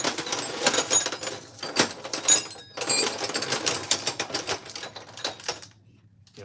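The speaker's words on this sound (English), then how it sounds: "sorting sockets, probably not the most riveting thing I've ever done on this channel" Loose metal sockets clatter and clink in rapid, irregular bursts as they are sorted by hand in a garage, with a couple of short lulls between handfuls.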